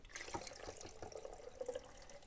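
Film developer poured into a development tank for Ilford PAN F+ film, a faint close trickle and gurgle of liquid with small splashy bursts.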